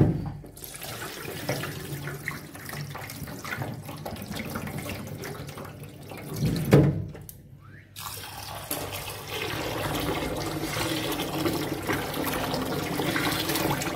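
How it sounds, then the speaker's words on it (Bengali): Two kilos of urad dal being washed by rubbing in water, with continuous splashing, sloshing and swishing close by, a brief pour-like surge midway, then steady watery rubbing again, no voices. "এখানে 2 কিলো ডাল আছে বড়ি দেওয়ার জন্য, বিউলির ডাল। এটাকে আমি খুব ভালো করে ধুয়ে নিচ্ছি কষলে কষলে"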